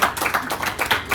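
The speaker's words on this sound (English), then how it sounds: "Let's clap it up for that." Audience clapping at a Survivor-style Final Tribal Council game event: a brief burst of irregular, close-sounding handclaps from a small group, lasting about a second.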